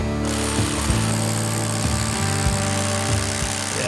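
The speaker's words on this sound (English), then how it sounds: "now we're drilling and placing the bolts" Power drill boring holes to bolt down a freestanding CrossFit gym rig, with a loud steady motor whine broken by several short bursts of rattling impact as the bit bites.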